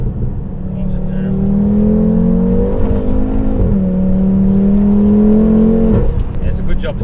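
A 516 bhp Audi RS3 pulls hard through the gears, its engine note climbing steadily and dropping at each shift, loud and close from inside the cabin, with faint talk underneath.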